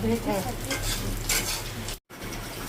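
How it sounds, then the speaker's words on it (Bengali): Dried fish (shutki) frying and being stirred in a pan, a loud close sizzle with scraping stirs, briefly cut off near the end, with a voice faintly in the background. "দেখি শুটকিটা কেউ এমনি ভাজছো?"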